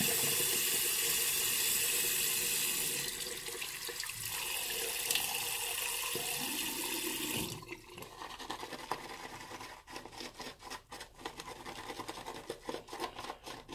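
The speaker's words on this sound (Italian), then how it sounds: "Ma noi mettiamoci ancora un po' d'acqua." Water being added while whipping shaving lather with a synthetic brush, a steady running-water wash that stops midway, followed by quick rhythmic brush strokes swirling close by.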